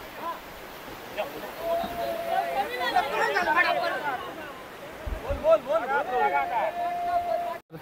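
Beach crowd at a traditional rapan fishing festival in Kunkeshwar, Devgad: many people chatter and call out together in a lively babble at moderate distance, with waves and open-air noise underneath.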